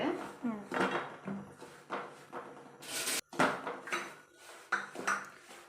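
Raisins and cashews being stirred in a pan with ghee for rave unde, with close metallic clatters and scrapes of a spoon against the pan in an irregular rhythm, and voices talking in the background at moments.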